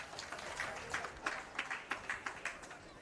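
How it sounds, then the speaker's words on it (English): A crowd at a women's para football match between Australia and Japan applauds, with steady, fairly distant clapping that settles into a rhythmic beat. "garners an applause from the crowd"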